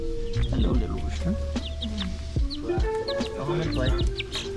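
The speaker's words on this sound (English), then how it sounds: "Hello, little rooster." A young rooster clucks in short, nearby bursts while a person talks over it.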